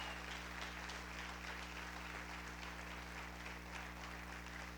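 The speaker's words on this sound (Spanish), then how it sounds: "¿Alguien puede aplaudir al Señor por eso?" A church congregation applauds in a steady, even wash of clapping that sounds somewhat distant and subdued over a low electrical hum.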